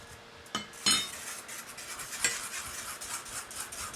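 A whisk working through a red wine jus sauce in a pan, quick soft metallic strokes and clinks with a faint sizzle beneath, close and fairly quiet, no voices.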